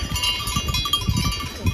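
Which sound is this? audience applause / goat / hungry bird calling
goat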